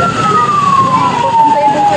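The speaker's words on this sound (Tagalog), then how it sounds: "May ambulansya na agad." An ambulance siren wails loudly and close by, its steady tone gliding slowly downward over a noisy street background, with voices faintly underneath.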